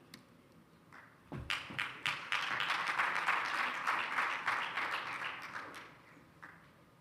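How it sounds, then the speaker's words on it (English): Applause rises from a crowd at a youth-led intergenerational dialogue for the panelists, beginning with a few scattered claps, swelling into steady clapping and fading out over about seven seconds. "Can we give a round of applause to our panelists"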